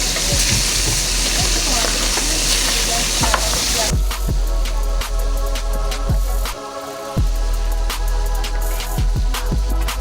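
Capitaine fish fillets sizzling and frying in a pan as the second side browns, a steady close crackle with a few utensil clicks and scrapes.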